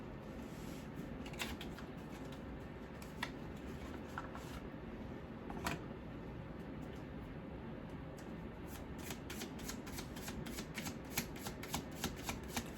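Cards from a tarot deck are shuffled in a quiet room, a soft continuous riffling with recurring sharper slaps and flutters, close and alone with no talk.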